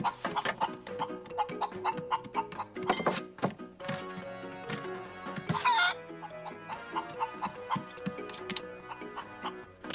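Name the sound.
pet hen clucking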